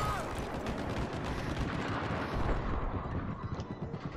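Battlefield 4 battle with dense, continuous gunfire and booming explosions, a loud rumbling wash with no pause throughout.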